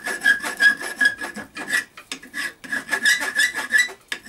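A rasp files a steel flint striker held in a vise at the forge. The strokes are steady, rhythmic and close, with rough scraping and a short pause partway through.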